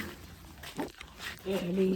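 Several small dogs at a home in rural Konkan let out soft whimpers and brief yelps, the clearest cries coming near the end. A person talks over most of it.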